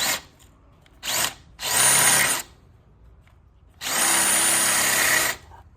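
A cordless drill whirs in three bursts, first a brief spin, then a two-second run, and after a pause a longer steady whine; close and loud.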